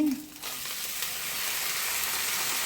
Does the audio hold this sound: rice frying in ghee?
yes